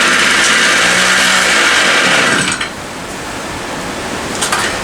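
A BladeZ Moby X gas scooter engine, freshly fitted with a carburetor, runs roughly and loud up close, sputtering unevenly as it struggles to idle, then drops lower and falters near the end.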